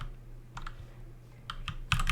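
Computer keyboard keys clicking in short bursts while sprinting in an Unreal Engine 4 first-person multiplayer game, a few quick clusters of taps close to the mic, the last group loudest.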